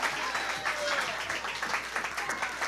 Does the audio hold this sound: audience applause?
yes